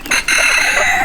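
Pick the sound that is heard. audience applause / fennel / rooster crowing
rooster crowing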